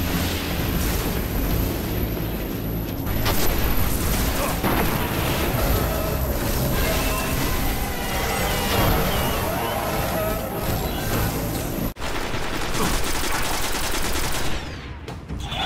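A rocket-propelled grenade launcher fires and its rounds explode amid a dense, continuous barrage of gunfire and booms, loud and sustained throughout, with a brief cut near the end.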